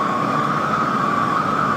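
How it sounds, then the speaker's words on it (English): Police siren in an AI-extended recording, a steady high wail holding one pitch throughout, fairly loud over a low background rumble with no talk. "we've got police sirens going on."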